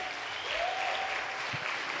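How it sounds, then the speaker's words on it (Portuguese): A church congregation claps in a dense, steady burst of applause, with a brief voice rising above the clapping partway through. "você pode dar um aplauso ao Senhor por isso?"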